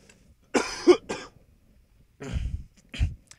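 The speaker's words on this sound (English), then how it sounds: "I'm sorry, I'm gonna cough" Two bursts of coughing close up, each a pair of rough, harsh coughs separated by a short silence.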